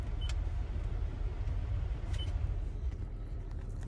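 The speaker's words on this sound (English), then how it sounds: "Sorry if the sound was kind of overpowering, but it's hot and I'm in a car, so we had to have air." Car air conditioning runs inside a parked car on a hot day, a steady, fairly quiet broadband whoosh and hum with no change across the stretch. Faint ticks rise above it now and then.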